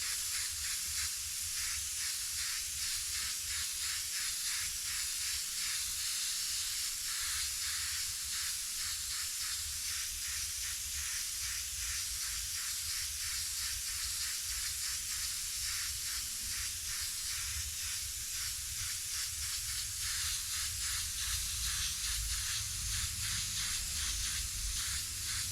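Airbrush laying a light dusting coat of paint, a faint, steady airy hiss running continuously and evenly at low level with no talk over it.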